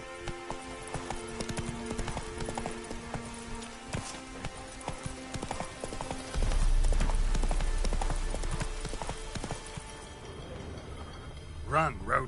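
Roach the horse galloping in The Witcher 3, a rapid clip-clop of hooves under game music and a voice, with a low rumble partway through and a brief whinny near the end.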